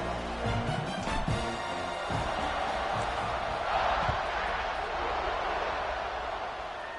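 A crowd at a college football stadium during a Georgia vs Western Kentucky game before a kickoff, a steady, broad roar of many voices heard from a distance with scattered whoops, continuous throughout.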